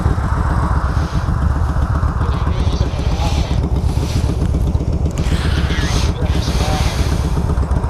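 A 2016 Indian Roadmaster motorcycle engine running at a steady, loud low throb under constant wind rush, with someone talking over it.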